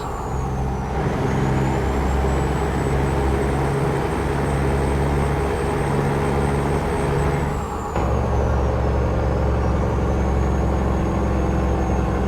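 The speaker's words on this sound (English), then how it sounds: "I'll hit the jake brake for you guys." A heavy truck engine in the video game Heavy Haul drones steadily with a loud, rumbling rattle of jake brake engine braking, joined by a faint high whine that shifts partway through.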